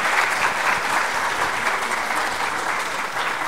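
Sustained applause from a lecture audience after a university science talk in Mexico, a thick even wash of many clapping hands at steady volume from start to finish.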